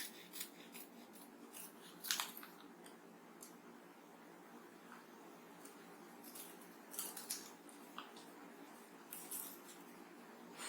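Scissors cutting paper into parts for a school math activity, a quiet, close series of small snips and crisp rustles in irregular bursts over a soft background hum.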